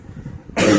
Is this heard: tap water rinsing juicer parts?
no